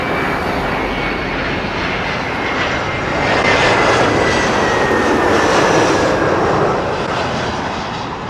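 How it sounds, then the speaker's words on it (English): An Airbus A320 from Cork comes in to land at London Heathrow, a close, steady jet roar with a faint whine drifting downward, swelling midway and holding, with no talk. "A320 coming in from Cork."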